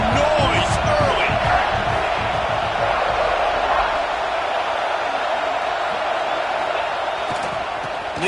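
A stadium crowd in the College Football 26 video game roars steadily throughout, with dense, continuous noise and occasional cheers rising over it, while a commentator talks above the crowd.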